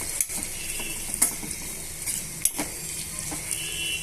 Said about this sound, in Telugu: ఇలా ఉల్లిపాయ ముక్కలు పచ్చిమిరపకాయ ముక్కల్ని ఇలా బాగా కూడా వేయించేసుకుందాము